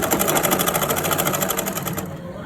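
A sewing machine runs fast and continuously at close range, top stitching cargo pants, then slows near the end.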